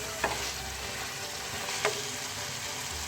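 Namkeen karahi frying in a wok, a moderate steady sizzle with two brief sharp scrapes of a spoon being stirred through it, no voices.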